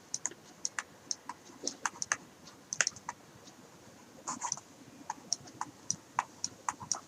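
Typing on a computer keyboard, a steady run of sharp, fairly quiet key clicks in an irregular rhythm, close by and heard alone without talk.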